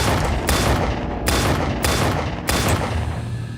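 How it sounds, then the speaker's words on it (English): Several loud gunshots crack out in quick succession, about four or five heavy blasts with booming tails that overlap in a dense, echoing barrage. "She fired off 5 shots."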